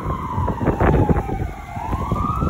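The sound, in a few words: emergency vehicle siren, ambulance or fire truck passing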